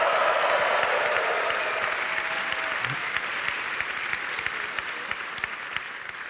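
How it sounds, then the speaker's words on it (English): Dense, sustained applause with cheering from a conference audience at Google Developer Days Europe 2017 fills the room from start to finish, steady and loud before easing slightly toward the end. "I think even Europeans can give them an extra cheer"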